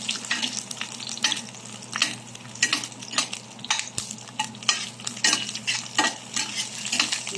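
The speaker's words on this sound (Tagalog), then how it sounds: "Brown na po yung luya, lalagay na natin yung bawang. Tapos isusunod na rin natin yung sibuyas." Ginger, garlic and onion sauté in a pan, a steady quiet sizzle broken by repeated scrapes and clinks of a utensil stirring against the metal, with no talking.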